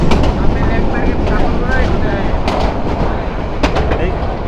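Sagorika Express local train racing along the rails toward Chandpur, loud and close, with a constant roaring rumble, rhythmic wheel clatter and brief squealing tones riding on top.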